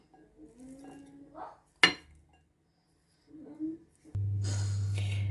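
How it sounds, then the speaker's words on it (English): Boiled sweet corn is added to a bowl while making an American corn salad, with a sharp clink of utensil on dish, soft scraping and handling sounds, then a steady hum. "Now next step is I will add the boiled sweet corns."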